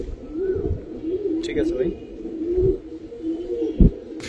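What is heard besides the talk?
pigeons cooing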